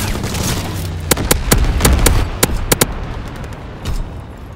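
Incendiary bombing run in Call of Duty: WWII: a steady low rumbling wash of fire and distant blasts, punctuated by several sharp bursts of gunfire, with a final muffled boom near the end.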